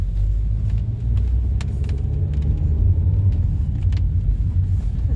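A car driving along a snowy winter road on winter tyres, with a steady low road rumble and engine drone throughout and no talk.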